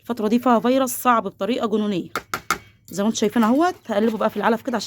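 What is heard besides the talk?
No distinct noise like a dog, phone or traffic.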